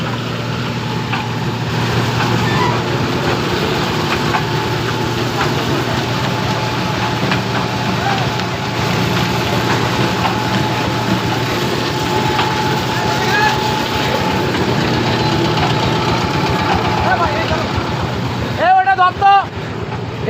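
Mustard oil expeller machines running in a factory showroom, a loud steady mechanical drone with a constant low hum and rumble throughout, briefly interrupted near the end by a short burst of voice.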